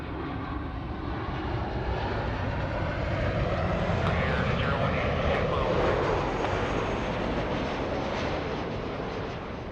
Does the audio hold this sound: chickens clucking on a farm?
no